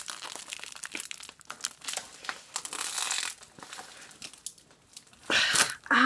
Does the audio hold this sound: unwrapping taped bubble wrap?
yes